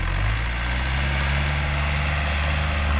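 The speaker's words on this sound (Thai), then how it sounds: "หน้างานครับมีรถไถยันมา" A Yanmar EF514T tractor engine idles at a work site, a steady low diesel drone with even rumbling harmonics, close and continuous without speech.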